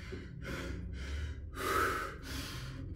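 Heavy, rhythmic breathing during a brutal assault bike (air bike) HIIT session, with several loud panting gasps and forceful exhales close to the mic and no talking.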